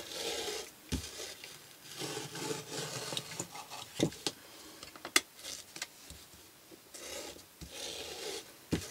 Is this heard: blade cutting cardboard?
yes